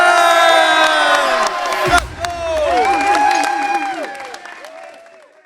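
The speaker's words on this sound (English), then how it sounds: "I can't tell you enough about this crowd. It's too loud." Loud crowd cheering and shouting at a boys high school volleyball game, a dense roar of voices with whistles and yells that peaks, drops briefly after a thud near two seconds, then swells again and slowly fades.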